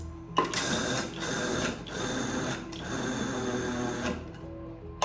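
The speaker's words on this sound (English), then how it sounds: "I'm getting my nuts and placing a little bit at a time in this nut grinder" Nuts ground a little at a time in a nut grinder for Christmas snowball cookies, a steady close mechanical whirring and grinding broken into several bursts with short pauses, no talk.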